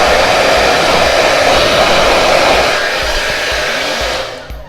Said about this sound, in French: Faut pas mettre le sèche-cheveux trop près de la bouteille.